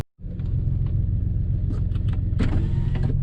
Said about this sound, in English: I'm gonna let the car warm up and then we will be on our way